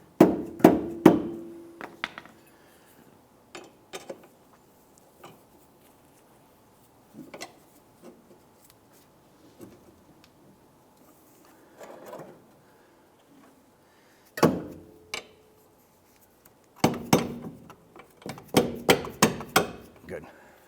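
Sharp metal hammer strikes on a punch driving a rear shock bolt on a 2001-2005 Honda Civic, coming in short clustered bursts separated by quiet gaps, loud and close, with a few isolated taps between.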